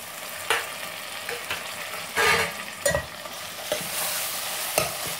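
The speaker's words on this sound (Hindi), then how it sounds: "कांदों को हल्का सा भून लेते हैं।" Onions sizzle steadily in a pan for a Sindhi-style mutton curry, with sharp scraping stirs cutting in every second or so over the continuous frying hiss.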